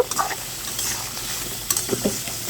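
Eel fish curry (baim mach) cooking down in its own released water, with a soft steady sizzle broken by a few scraping stirs near the pan and no talking.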